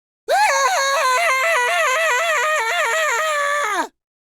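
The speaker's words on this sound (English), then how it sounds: "a scream is heard throughout the castle" A long, loud wavering scream echoing through a castle, sustained for several seconds with trembling pitch, then cutting off abruptly into silence.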